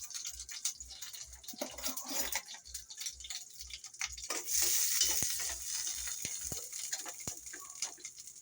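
Oil sizzles and crackles steadily in a frying pan as onion and tomato are stirred, with a low rhythmic thumping underneath throughout.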